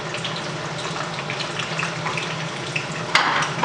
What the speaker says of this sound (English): First, we start frying the cottage cheese.